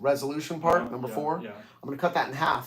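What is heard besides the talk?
No everyday noise stands out behind the speech.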